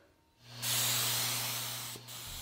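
A spray gun applies waterborne lacquer to a wooden drawer in a workshop, making a steady, loud hiss that starts abruptly, runs for about a second and a half, dips, and continues over a low machine hum.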